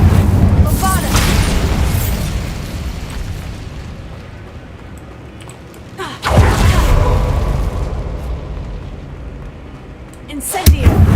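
Bombarda spell blasts in the Hogwarts Legacy video game set in a decaying catacomb, heavy booming explosions bursting out at intervals, each with a loud rumbling onset that fades slowly, the fiery Incendio cast mixed in.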